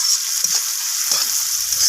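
Onion and tomato fry with a little salt in a pan, making a steady, fairly loud sizzling hiss with occasional soft crackles and stirring movements.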